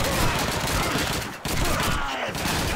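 German MG42 machine gun fire in Call of Duty 2, dense rapid bursts of gunfire layered with other shots in a chaotic battle, loud and close, with faint voices in the mix.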